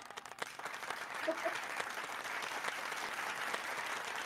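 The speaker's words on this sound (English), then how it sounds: "Everybody give a round of applause" An audience breaks into broad, sustained applause, a dense wash of many hands clapping that holds steady for several seconds.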